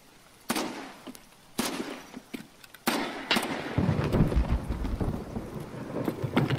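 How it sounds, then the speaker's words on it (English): Gunfire breaks out in a video game shootout, several sharp, loud shots at irregular intervals followed by denser crackling and rumbling shots, heard at a middle distance. "Somebody's shooting from fucking skeleton side"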